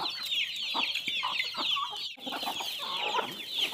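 Chickens are being fed corn on a rural farm and cluck busily and continuously, with many overlapping calls close by and no talk.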